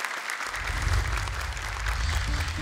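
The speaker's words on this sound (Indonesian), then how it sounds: "Boleh tepuk tangan sekali lagi untuk Mora." Applause from a studio audience at an Indonesian Quran recitation competition, a steady wash of clapping with a low rumble beneath, with no talk over it.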